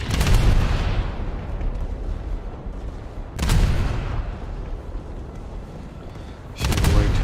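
Heavy naval guns boom in a ship battle game, three loud broadband blasts spaced about three seconds apart, each with a long rumbling decay.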